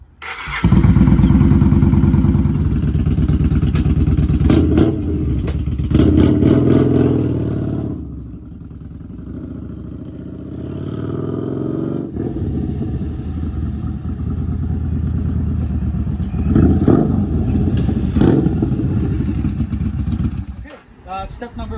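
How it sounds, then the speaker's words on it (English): A 2014 Yamaha Bolt 950cc motorcycle engine cranks and starts, then settles into a loud, rough idle with a few throttle blips and clattering mechanical noise throughout. "So I'm just going to start the bike."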